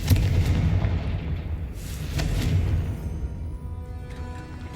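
Explosive fire-spell blasts in the Hogwarts Legacy video game, a continuous loud rumbling boom with repeated heavy bursts and a long fading tail, no talk over it.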